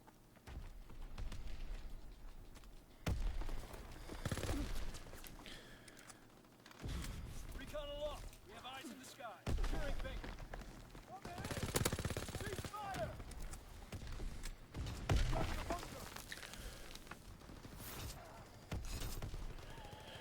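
Bursts of automatic machine gun fire from a World War II–era weapon in Call of Duty: WW2, heard as several separated volleys across the clip, loud and close, with someone talking between and over them.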